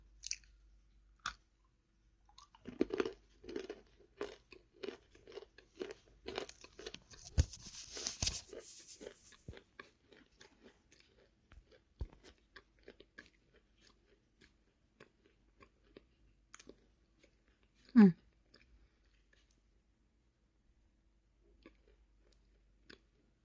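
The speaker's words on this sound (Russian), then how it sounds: "С виду кажется, что она плотная, но кусается и жуется очень легко." Bashkir white clay being bitten and chewed close up, a run of soft crunches and crumbly squishes that thin out into quiet pauses, with one louder bite later on.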